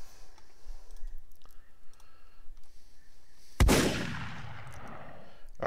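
A video game gun fires a single loud projectile shot midway, a sharp burst with a decaying rush of noise, following a stretch of quiet clicks and faint background sound.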